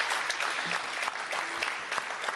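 Audience applause at the opening ceremony of Passaggi Festival, a continuous, fairly quiet crowd clapping with scattered individual claps standing out, steady throughout and without speech.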